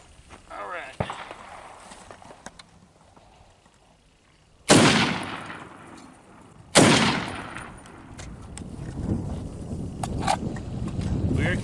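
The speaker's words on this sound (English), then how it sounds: "I'm going to try and shoot around the armrest section so I can blow that apart." Two loud, sharp .308 rifle shots a couple of seconds apart are fired into a car door, each a sudden crack with a ringing decay, among quieter handling noises and rustling.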